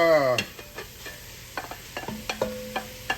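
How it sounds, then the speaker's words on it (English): Ground meat browning in a pan for an old-school beef goulash, with quiet sizzling and scattered clicks of a utensil stirring and scraping, close and fairly soft. "ground meat in there. We're going to brown this off."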